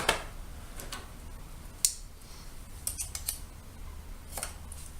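Trap packaging cut open by hand for a Dakota line foothold trap, with sparse, quiet snips and plastic crinkles separated by pauses, close up in a quiet setting.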